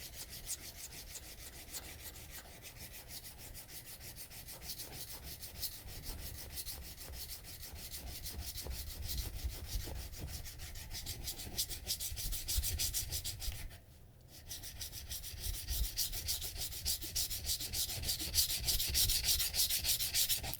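A Moritaka gyuto knife has its bevel sanded by hand to thin it, a steady rhythmic rubbing that runs close and continuous, swelling slightly louder and pausing briefly near the end before resuming.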